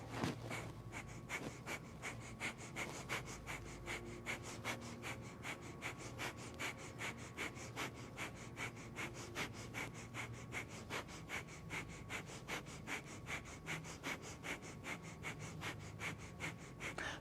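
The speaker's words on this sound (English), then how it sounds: "Breath of fire really cleans out the body." Rapid breath-of-fire yoga breathing from a Kundalini yoga session, quick rhythmic forceful exhales through the nose repeating evenly for the whole stretch, close and soft, with no talking.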